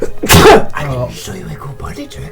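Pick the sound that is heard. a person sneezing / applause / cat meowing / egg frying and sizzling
a person sneezing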